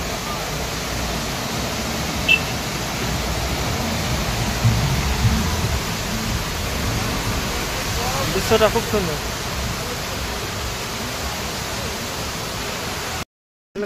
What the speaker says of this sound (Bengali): এই ঝর্ণাটা দেখতে খুব সুন্দর।